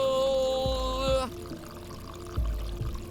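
Water pours onto the player in the game I am Cat, a steady close gush with musical tones above it. The pour shifts about a second in, then continues with low thumps, and no one speaks.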